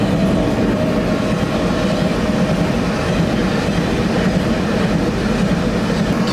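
A train rumbles past close by, a loud continuous roar of wheels on rails with a heavy low drone and faint clattering throughout, heard from beside a Volkswagen Golf GTI.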